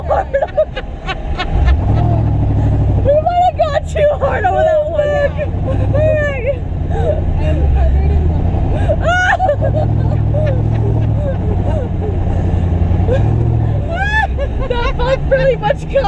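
A Shitbox Derby race car's engine drones hard at full throttle, a low continuous roar from inside the cabin under excited chatter and laughter from the women riding along.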